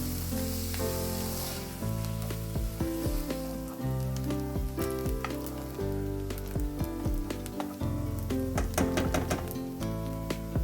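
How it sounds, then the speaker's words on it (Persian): About 200 g of finely diced onions sautéing in a little oil in a pan, a steady sizzle with clicks and scrapes of stirring over soft background music. "200 گرم پیاز نگینی خرد شده رو داخل تابه میریزم و در مقداری روغن تفت میدم"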